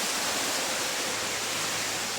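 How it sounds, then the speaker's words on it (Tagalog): A steady, loud rush of wind roars without pause, broad and hissing, with no voices over it. "Lakas ng hangin dito"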